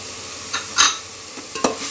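Mushrooms frying in a pan with cinnamon, clove, cardamom and chili powders, stirred with a few soft scraping strokes over a faint steady sizzle, close and quiet with no talking.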